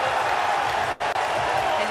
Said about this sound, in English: That roar from the crowd is these fans knowing that Danny Wolf has waited hours tonight to hear his name called.